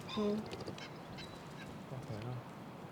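Ducks or geese give two short nasal quacks, faint and a couple of seconds apart, against a low background during a casual podcast conversation.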